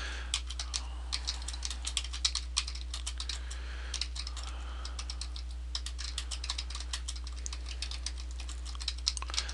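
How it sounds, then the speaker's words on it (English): Someone types on a computer keyboard with irregular bursts of crisp, close key clicks and brief pauses, continuous over a low steady hum, with no talk. "This is me typing."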